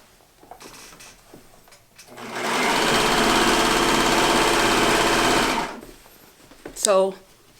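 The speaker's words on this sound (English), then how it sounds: "So this is what the serger does." A serger sewing machine runs steadily for about three seconds, stitching fabric for a pair of pants, loud and close, with a brief clattering handling noise just after it stops.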